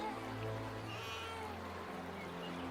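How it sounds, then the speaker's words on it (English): A baby cries from a basket by the river in an animated Bible story, rendered as a sound effect: thin, wavering wails that carry through the short moment. "There is a crying sound coming from that basket."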